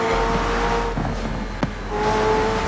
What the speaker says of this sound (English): this is the McLaren Senna actually implemented in the game, which has a nice rasp to it